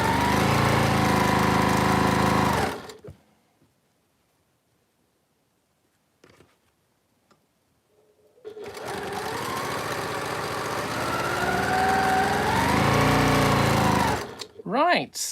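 A noisy domestic sewing machine runs loudly and close with a steady mechanical whir and hum, stopping for several quiet seconds before starting up again with a rising and falling drone.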